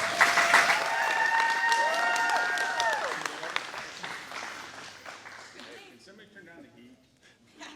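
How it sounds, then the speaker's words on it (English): Audience applause at a senior men's bowhunter freestyle archery competition, a crowd clapping steadily with whistles and cheers early on, then thinning out as the clapping tapers and voices talk beneath. "Give a big round of applause."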